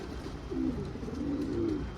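Racing pigeons coo softly in two short, low calls over a steady hum of outdoor background noise.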